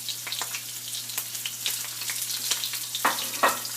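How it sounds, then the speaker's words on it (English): Green chilies fry in hot oil for a garnish, giving a steady close sizzle with small crackling pops and a couple of louder spits near the end. "So for garnishing, I'm going to fry the green chilies"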